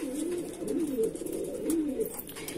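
Madrasi pigeons of Dasu, Tiger and Andhra breeds coo close by in repeated, rolling low calls, with faint rustling in the background.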